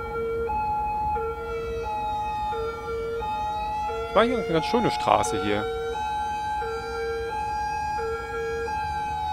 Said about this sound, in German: Zwischendurch mal das Martinshorn an, damit keiner nervt.